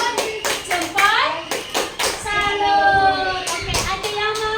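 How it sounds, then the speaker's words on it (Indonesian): Children perform a rhythmic clapping chant in a classroom, with sharp, close claps in short bursts and young voices chanting between them. "Oke, yuk kita kasih tepuk salut, tepuk salut."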